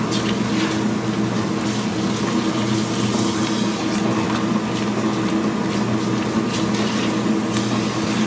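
A washing machine fills with water for its rinse cycle, a steady, continuous rush and hum of water and pump at moderate level with no talking.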